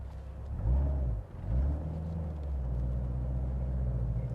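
A 2016 Chevrolet Corvette Z07 with the Ultimate Performance Package rumbles low and steady while driving, its engine note swelling briefly, dipping near the middle, then settling into a continuous close, deep drone with no talking.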